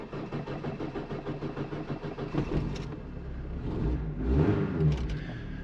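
A Vauxhall Nova 2.0 with an F16 gearbox fires up on a driveway after a clutch swap. A rhythmic, chugging idle builds into louder, swelling revs, close by with no talking.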